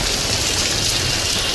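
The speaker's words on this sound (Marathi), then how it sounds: "भरपूर पाऊस आहे." Heavy rain pours down in a steady, dense wash of hiss and patter, loud and continuous with no voices.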